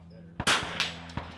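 Rifle bullet striking a steel target at an NRL22 rimfire match: a sharp shot followed moments later by distinct metallic clanging impacts, crisp and fairly close against a quiet outdoor background.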